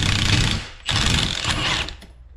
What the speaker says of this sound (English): So we'll go ahead and take this nut off